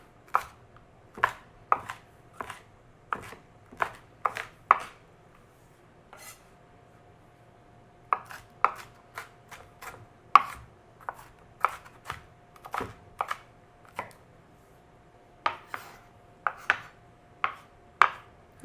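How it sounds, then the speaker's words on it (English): A knife chops peppers into smaller pieces on a cutting board for chickpea tacos, giving close, crisp, irregular knocks in quick bursts with short pauses between them. "I'm going to cut the peppers up a little bit smaller."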